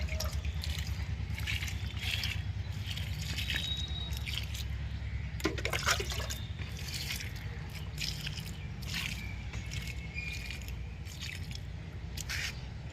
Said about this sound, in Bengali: এগুলোতে একটু জল দিয়ে দিই